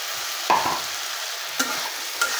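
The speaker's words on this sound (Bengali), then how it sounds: "এখন আমি কেটে রাখা আলুগুলো দিয়ে দিচ্ছি" Cut potatoes tossed into frying spice masala and stirred, a soft clatter and scrape over a constant hissing sizzle, with a few brief spoon knocks and no talking.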